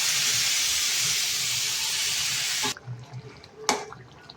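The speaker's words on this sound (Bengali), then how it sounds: "এখন দিয়ে দেবো সামান্য পরিমাণ জল।" Water poured into a pan while cooking chicken bharta: a loud, steady broadband hiss of pouring and steaming for about two and a half seconds, then it stops abruptly, leaving quiet kitchen sounds and a brief sharp sizzle burst.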